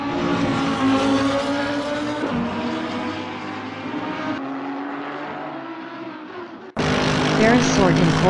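Lamborghini Huracan GT3 race cars at Spa roar past with sustained high-revving engine whine and shifting pitch, loud and close, under continuous commentary from a voice.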